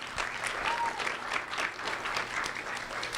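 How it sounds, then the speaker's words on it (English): Sustained applause from a school audience at a middle school book battle final, steady clapping filling the whole stretch with no pauses. "that deserves a round of applause"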